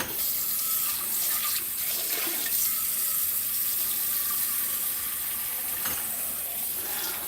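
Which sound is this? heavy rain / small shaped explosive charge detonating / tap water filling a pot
tap water filling a pot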